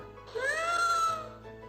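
One drawn-out cat meow rises and then falls in pitch, heard alone and fairly close.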